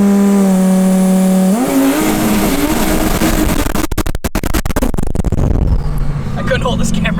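Lamborghini Huracan Alpha 16 prototype build doing a burnout with traction control off, its engine revving loudly and rising in pitch, with a harsh crackling tire-smoke roar building midway and holding to the end.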